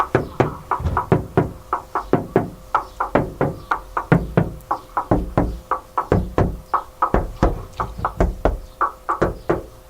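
The undampened front door of a 2013 Toyota Prius+ (Prius V) is shut again and again, giving dozens of sharp, hollow thuds in a steady rhythm, close and fairly loud with no talking.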